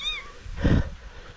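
An abandoned kitten gives a single clear meow, close and fairly loud, with a faint higher mew just before it against a quiet background.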